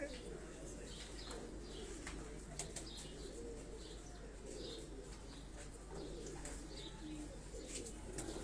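Pigeons of an original breeding line cooing softly at a fanciers' loft, with occasional wing flaps, faint and distant over a steady background hum.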